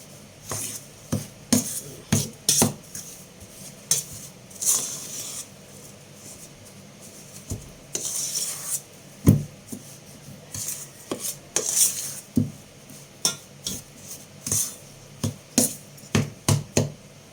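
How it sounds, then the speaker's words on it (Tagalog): Graham crust ingredients are mixed in a bowl for a graham jelly cake. A utensil scrapes and clinks against the bowl in irregular bursts, close and moderately loud, with quiet pauses between strokes. "Ihalo lang natin na maigi ito."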